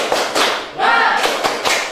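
A group joins in a rhythmic spirit clap, tepuk semangat, with loud close bursts of many hands striking in a patterned beat while voices chant along.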